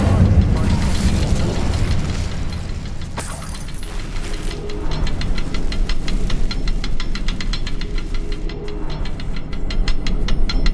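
An Incendio fire spell is cast in Hogwarts Legacy on PS5. A sharp burst of flame erupts over steady game ambience, then gives way to a rapid crackling, ticking rumble that carries on to the end.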